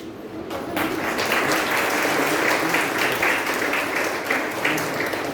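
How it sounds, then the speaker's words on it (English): Newcomers at a B. Pharm. and M. Pharm. orientation program applaud their parents, a loud, continuous burst of many hands clapping close by that holds steady throughout. "first make a big clap for your parents"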